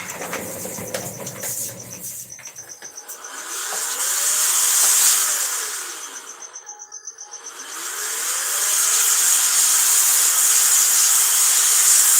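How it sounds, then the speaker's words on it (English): A blower running in a studio, a steady loud airy whine that swells, dips and rises again as the motor speed changes, with no talk. "Where's my blower? Time for the blower."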